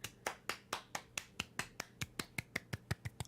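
Fingers snap in a quick, steady rhythm, around fifteen crisp snaps in a row, close and alone with no talking.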